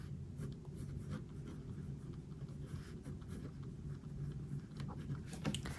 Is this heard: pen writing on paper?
yes